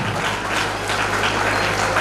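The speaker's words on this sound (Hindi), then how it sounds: "एक जोरदार तालियां सर के लिए बजनी चाहिए।" An audience at a school annual function applauds, the clapping steady, dense and loud throughout with no talk over it.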